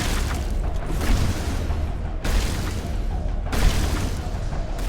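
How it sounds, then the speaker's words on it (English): A grenade going off in the Mass Effect video game, heavy booming blasts repeating in a rough rhythm, loud and close, with rumbling low end and no talk over them. "Grenade!"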